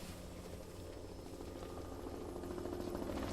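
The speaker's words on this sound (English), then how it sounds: "The helicopter now flies over the fire." Firefighting helicopter flying over a fire, a steady broadband rotor and engine roar at moderate distance, growing slightly louder toward the end.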